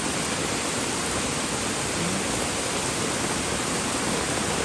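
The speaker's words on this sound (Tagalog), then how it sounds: "Ayan, makikita yung bilis ng pagragasaan ng tubig." Fast floodwater rushes under a bridge over a river swollen by heavy rain, a loud, steady broadband roar that holds constant throughout with no pauses.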